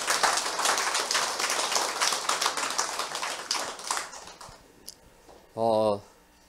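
A seminar audience claps together in a dense wave of applause that fades after about four seconds, followed by a couple of isolated sounds.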